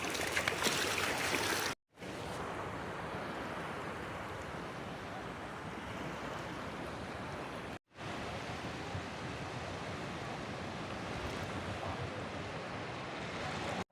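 Sea waves wash onto the shore of a beach where fishing nets are set out in early morning: a steady, loud roar of surf broken by two brief silent gaps, with no voices.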